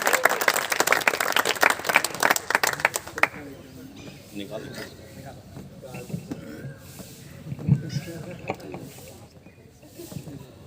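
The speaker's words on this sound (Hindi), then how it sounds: "जोरदार तालियों से आप अमित को बुलाएं" An audience in the Tagore Auditorium at MDU claps loudly for about three seconds, then the applause drops away to quiet murmurs and a voice speaking over the room.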